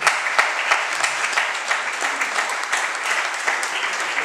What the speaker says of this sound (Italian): Vieni Eleonora, un applauso.